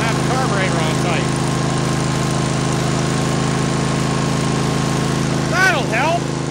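An old tractor engine runs at steady idle, its low droning hum continuous and close throughout, with a carburetor that has just been tightened; faint squeaky chirps rise briefly over the engine at the start and near the end.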